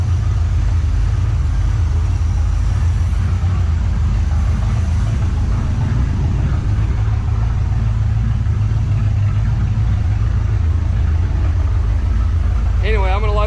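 A 1986 Pontiac Trans Am's 305 V8, four-barrel carburetor freshly rebuilt, idles steadily with a deep, constant low rumble throughout, close by. A brief higher chirp is heard near the end.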